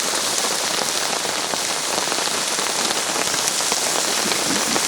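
Steady, heavy rain pattering densely on a surface, a constant close hiss of drops with no other sounds.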